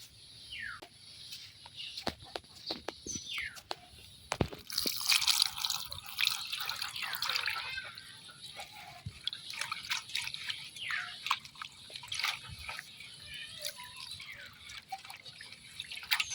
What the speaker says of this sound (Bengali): এখন আমি পরিষ্কার করে পানিটা ধুয়ে নিলাম।